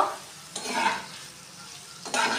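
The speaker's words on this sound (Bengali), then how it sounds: "আমরা বাটারের মধ্যে ভালো করে আগে একটু পনিরটাকে ভাজা করে নিই" Paneer frying in butter crackles softly, with two brief swells of sizzling and stirring against a quiet, low hiss.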